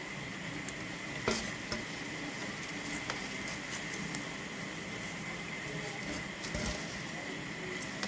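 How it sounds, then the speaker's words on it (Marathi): Vada pav vadas sizzle steadily in hot oil, a constant crackling fry with occasional brief pops, close and alone with no talk. "आपल्याला अशा प्रकारे आपल्याला तळून घ्यायचे"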